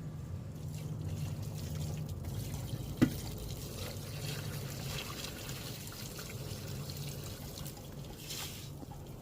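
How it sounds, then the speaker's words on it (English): Liquid being poured off from a pot while processing mushroom grain spawn, a steady low trickle with one brief sharp clink partway through, heard up close in a garage. "We're going to pour that off and then catch the rest of the green."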